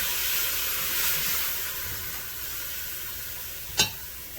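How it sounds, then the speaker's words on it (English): Food sizzles steadily in a heavy-bottomed pan, a close, even sauté hiss with a single sharp clack of a utensil near the end. "while that's sauteing up"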